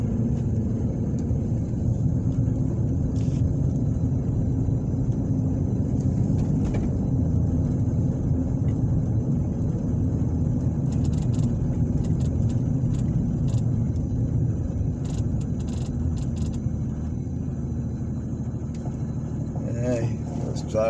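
A car drives along residential streets, its steady low engine and road rumble constant and close for the whole stretch, with no break in the sound.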